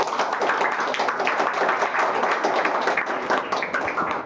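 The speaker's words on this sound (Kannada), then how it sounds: "ಒಂದ್ಸತಿ ಜೋರಾಗಿ ಚಪ್ಪಾಳೆ" A church congregation claps loudly in a dense, continuous burst of many hands, an even roar of applause that stays strong throughout with no clear talking.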